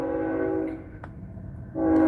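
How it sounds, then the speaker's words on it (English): A passing train sounds its sustained, tonal horn over a low rumble of rolling cars. The blast is steady, fades briefly, then swells back loud near the end, with no voices. "They got the train passing by"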